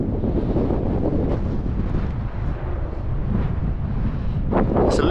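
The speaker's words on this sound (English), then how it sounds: "It's a little bit windy, but nothing crazy." Strong wind buffets the microphone on an open Peak District moorland plateau, a continuous loud roar and rumble that keeps rising and falling, with no voices.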